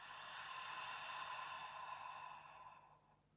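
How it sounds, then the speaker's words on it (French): A long, soft exhalation through the mouth during a guided meditation, a single breathy sigh that gradually fades out, close and quiet in a calm room. "Et expiration par la bouche."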